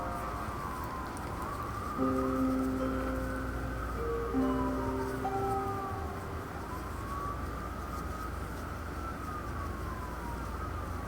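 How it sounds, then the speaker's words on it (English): A wailing electronic siren in a video game rises and falls over a steady hum, with overlapping tones swelling in the middle and no talking. "I hear a siren."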